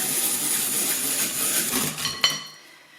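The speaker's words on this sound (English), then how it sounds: "I'm going to mix those up with my rotary mixer." A hand-cranked rotary mixer beating eggs in a bowl, a steady metallic whirring and scraping close up that ends with a sharp clink, then fades to quiet.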